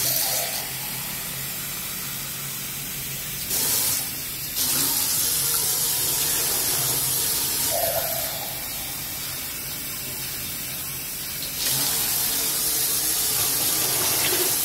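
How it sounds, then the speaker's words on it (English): Tap water runs into a container, a steady broadband rush lasting throughout with a few brief louder surges, heard alone with no talking. "So you pour the water into it"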